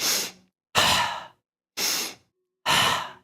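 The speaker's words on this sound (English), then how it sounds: "we're going to do another breath work called fire breathing" Four forceful exhalations through the mouth in a seated fire-breathing qigong exercise, each a breathy rush lasting about half a second, spaced by short silent pauses, close and clear with no talking.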